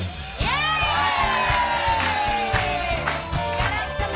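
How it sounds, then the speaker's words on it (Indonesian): Excited cheering and shouting from a group of children and adults in a lively indoor setting, sustained and loud throughout, with rhythmic music thumping underneath. "Ya, tepuk tangan untuk Ipan."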